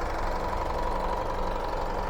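The 3.0-litre DDI diesel engine of a 2016 Isuzu MU-X idles up close with a steady, even drone and a low clattering rumble, with no talking.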